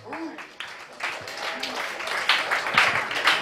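Comedy club audience at a Richmond, Virginia café comedy night applauding and whooping for a comedian, a dense wash of clapping that swells and stays loud throughout, with a voice shouting over it.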